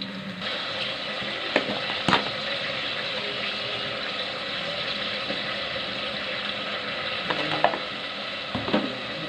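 Ginger paste sizzles and fries in a hot pan for a Chamagadda (taro root) curry, a steady loud hiss with a few sharp scraping stirs scattered through it.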